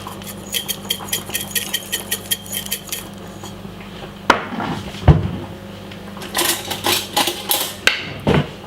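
Spinach salad with dry chili being tossed in a bowl, with a quick run of rhythmic clinks and scrapes of utensils against the dish, then a few louder knocks and clatters close by.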